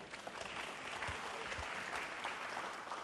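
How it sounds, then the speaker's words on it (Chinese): Audience applause at a literary tea gathering in 2009, welcoming a documentary producer and director to the stage; steady, dense clapping fills the room throughout with no voices over it. "掌声欢迎他们两位。"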